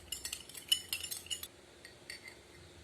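A spoon stirs sugar into a glass of water, clinking rapidly against the glass in a quick burst of light taps, then a few softer, sparser clinks as the stirring slows.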